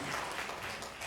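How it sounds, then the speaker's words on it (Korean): A congregation applauds during a church worship service at a church in Daegu, Korea, with dense, steady clapping that fills the room evenly from start to finish. "영광의 박수를 하나님께 드리겠습니다."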